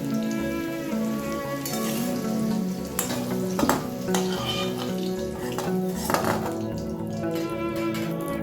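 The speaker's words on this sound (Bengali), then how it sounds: "ওই তেলের মধ্যে ফোড়ন হিসেবে একটা তেজপাতা দুটো শুকনো লঙ্কা অল্প একটু পাঁচফোড়ন অল্প জিরে দিয়ে দিচ্ছি" A bay leaf, two dried red chillies, panch phoron and cumin sizzling in hot oil in a pan while cooking fish curry, a steady crackling hiss with a few sharp clinks of utensils, close and loud, no talk.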